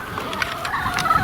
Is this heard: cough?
no